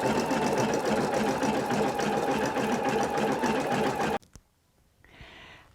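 Embroidery machine stitching the second colour of a design with a scalloped edge, a rapid steady mechanical chatter for about four seconds that stops abruptly, leaving a brief click and faint hiss.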